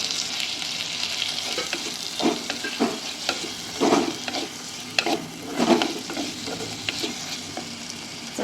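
Paneer bhurji with chopped tomato cooking in a pan over low heat, a continuous sizzle broken by several rhythmic stirring and scraping strokes, close and loud, with no voices.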